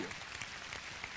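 Audience applause at a live motivational seminar, a dense steady patter of clapping spread evenly across a short stretch with no voice over it.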